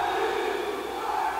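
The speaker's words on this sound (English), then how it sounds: "And the crowd is just amazed right now" A crowd reacts at an indoor football game between the Bloomington Edge and the St. Louis Attack, a loud sustained roar of many voices filling the arena without a break.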